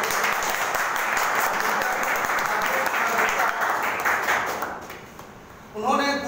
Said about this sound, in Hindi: मैं चाहूँगा कि उस महान शख्स के लिए एक बार जोरदार ताली होनी चाहिए।